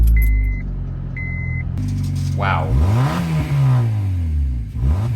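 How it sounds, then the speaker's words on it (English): A 2006–2012 eighth-generation Honda Civic engine revs hard through its worn exhaust, a close, loud rising roar after an opening beep, with a brief spoken exclamation. "it sounds like we need some new exhaust in the Honda"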